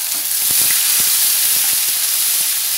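Onion paste fries in hot oil in a pan for a cauliflower and pea curry, a loud steady sizzle and hiss with a few soft scraping stirs, close up and without talk.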